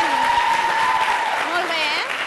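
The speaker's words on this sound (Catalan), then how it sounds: "Un aplaudiment." Applause from a group fills the clip, with a voice speaking over the clapping.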